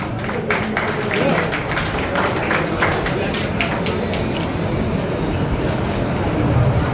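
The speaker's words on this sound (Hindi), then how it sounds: "सभी तालियां बजाएं।" An audience at a J.K. Foundation event honouring teachers and elders claps in a dense, steady patter that fades out after a few seconds, under someone speaking over a loudspeaker.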